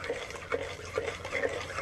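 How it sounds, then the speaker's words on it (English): A homebrew undercoating mixture thinned with linseed oil being stirred in a container, giving soft, thick, repeated sloshing swirls at a steady rhythm, close and moderately quiet. "once it's all stirred up good"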